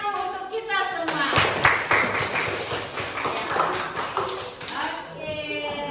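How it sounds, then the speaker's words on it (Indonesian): A class of students clapping together in a classroom, a busy burst of overlapping claps of a few seconds with a teacher's voice talking before and after. "kita kasih tepuk tangan dulu untuk kita semua"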